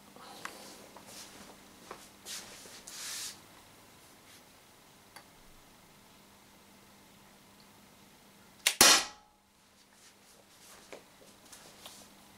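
A single sharp crack from an Umarex HDR50 CO2 air pistol firing 5 gram balls stands out against a quiet room with faint scattered ticks and small handling noises.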